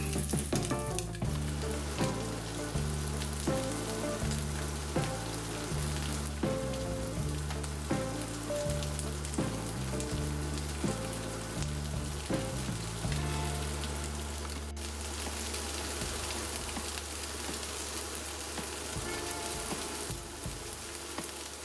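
Shredded beef frying in hot oil for crispy chilli beef, giving a steady, dense sizzle and crackle throughout, with music playing underneath.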